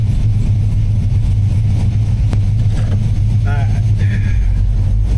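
Steady low idle from a warmed-up Chevrolet C10 truck engine, running near and unchanging throughout, with someone speaking briefly partway through.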